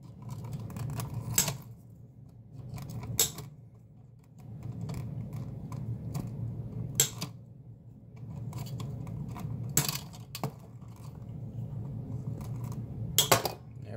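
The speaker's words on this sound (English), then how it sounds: "I've got them all stripped back about an inch and a quarter." Sharp snips and clicks of tools cutting and stripping electrical wires while upgrading household outlets, a series of distinct close cuts spaced irregularly over a low background hum, with no voices.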